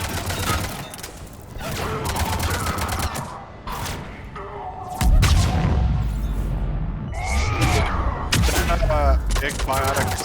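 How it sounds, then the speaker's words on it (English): Combat in Mass Effect 3 with booming biotic Flare blasts among bursts of gunfire and thuds, loud and dense, with voices talking over the fighting. "Big biotic explosion you hear every once in a while is flare"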